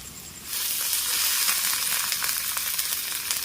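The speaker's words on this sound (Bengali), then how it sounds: "এরপর এই মশলাটাকে ভালো করে কষে নেওয়া হচ্ছে।" A spice paste of cumin and turmeric fries in a pan for a Sundarbans crab curry. A loud, steady sizzle starts suddenly and holds, with faint stirring scrapes underneath.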